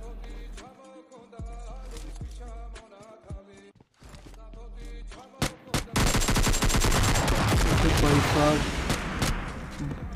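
Rapid automatic gunfire in the mobile battle royale game PUBG Mobile Lite, with sparse shots and game sounds early on giving way to a loud, dense burst of sustained shooting in the second half.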